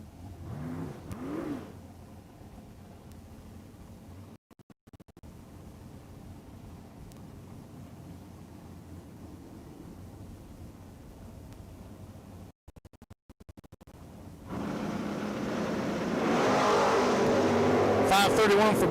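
Small block drag race cars at a drag strip, a distant engine hum with a brief rev near the start, then the roar swelling loud as cars launch at the end, with announcer-style talk over much of it.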